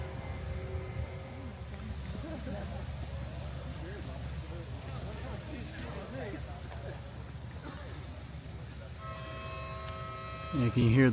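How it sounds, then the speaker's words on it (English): Motorboats on the water near Boldt Castle in the Thousand Islands drone low and far off as a continuous rumble, with people talking over it. "You can hear the boats going off in the distance."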